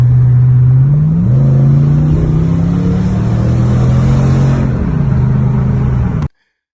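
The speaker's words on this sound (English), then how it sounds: "I don't get the chance to hear the exhaust" A loud 2025 Ram TRX pickup truck exhaust drones close by, its pitch rising and falling as it pulls away, then cuts off abruptly.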